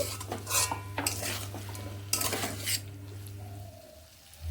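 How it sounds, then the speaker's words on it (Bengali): A spoon scrapes and clanks against a pot while a mixture with a little added water is stirred, giving repeated metallic strokes over a low steady hum and faint sizzle, without any speech. "একটুখানি জল দিয়ে নিচ্ছি এর সঙ্গে ভালোভাবে মিশিয়ে নিচ্ছি"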